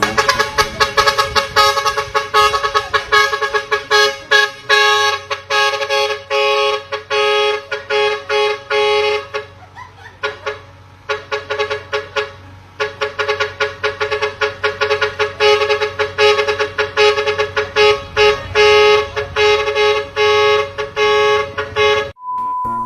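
Rhythmic, musical honking of a vehicle horn, repeated in bursts over a low engine hum, loud and close, with short pauses.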